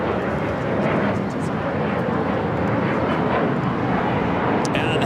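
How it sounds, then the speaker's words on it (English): A British Airways Boeing 777-300ER arriving at Los Angeles International Airport on a long-haul flight from London Heathrow, its steady broadband jet roar filling the clip at constant loudness, with a brief higher whine near the end. "That's British Airways Flight 283 coming in from London Heathrow on the 777-300 ER."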